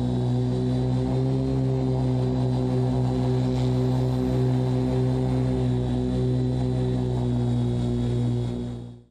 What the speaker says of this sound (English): an onboard video showing a full transition flight with audio